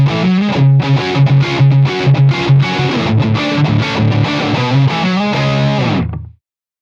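Electric guitar on the neck pickup through a Sinvertek Distortion No.5 pedal, with bass raised and mids on full, plays a loud, thick distorted riff of steady chords for about six seconds, then cuts off abruptly.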